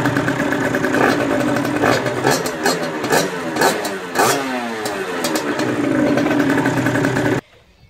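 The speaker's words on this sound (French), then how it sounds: "On peut voir que la moto reste au ralenti." A motorcycle engine idles after its throttle cable has been replaced, a steady close mechanical rumble with a faint rhythmic pulse that holds even for about seven seconds, then cuts off abruptly near the end.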